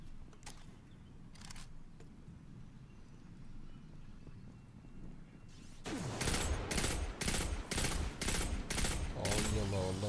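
Rapid bursts of gunfire from the Destiny 2 campaign's Red War chapter, a run of loud repeated shots in the second half after a quieter stretch with low rumble and a couple of faint early pops.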